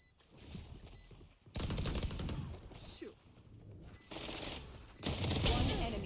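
Gunfire in a competitive shooting video game, with loud bursts of rapid shots in several separate volleys, close and dense, over game background sounds.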